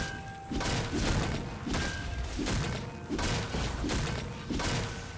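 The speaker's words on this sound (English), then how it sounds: "Red team's turret has been destroyed." Repeated heavy thuds and crashing impacts from a League of Legends match as a turret is struck and destroyed, a dense run of roughly rhythmic, punchy hits layered over game ambience.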